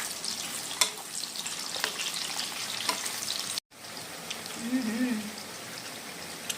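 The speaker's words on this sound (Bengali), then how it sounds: "তো আমাদের বেগুন ভাজা কিন্তু চলতেছে বন্ধুরা" Aubergine slices fry in oil with a steady, fine crackling sizzle throughout, close and moderately loud, with faint stirring and a short gap partway.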